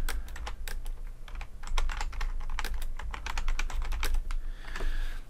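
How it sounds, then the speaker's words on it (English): Rapid, uneven keystrokes on a computer keyboard as a search term is entered into a search bar, close and clear with no talking, a steady patter of clicks over a few seconds. "I'm just going to type that."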